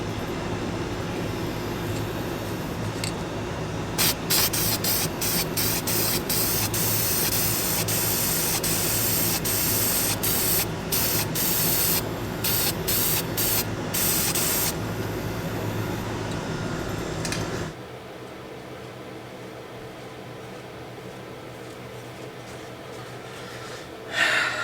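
A spray paint can hisses out black paint in a long steady burst, loud and close, with short stuttering bursts near the end before it stops and a quieter room is left.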